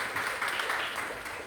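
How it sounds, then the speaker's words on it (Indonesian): Students in an Indonesian junior high classroom give a short burst of applause, a dense steady patter of hand claps that fills the room at moderate level without a break. "boleh berikan tepuk tangan untuk Dian."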